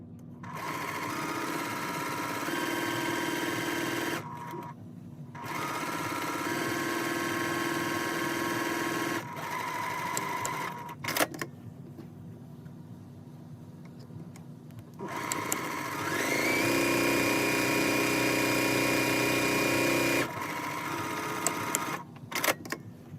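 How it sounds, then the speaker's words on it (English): A sewing machine stitches down a folded fabric edge on a zipper side of a bag, running in steady whirring bursts with short pauses between seams, close and fairly loud with no talking. "Next, you're going to sew down that folded edge."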